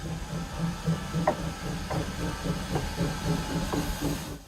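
Historic Skunk train rolling along the Northern California coast near Fort Bragg, with a steady low rumble, hissing, and a series of sharp rhythmic clacks and bumps from the cars over the rails.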